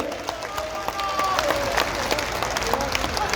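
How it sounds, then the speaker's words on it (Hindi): A crowd applauds at a BJP political rally in Churu to welcome party leader Rajendra Rathore, a dense, swelling patter of many hands with scattered shouts and a voice talking over it. "यदि समझ गए तो ताली बजा करके स्वागत करो"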